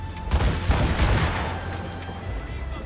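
A volley of ship's cannon fire from a sailing warship in Assassin's Creed Rogue: several heavy booms overlap into a rumbling barrage that fades away, loud and close with faint surrounding noise.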